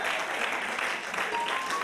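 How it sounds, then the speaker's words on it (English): A church congregation claps hands together, a dense steady patter of many palms filling the room, with a voice speaking over it. "Clap your hands to him, y'all"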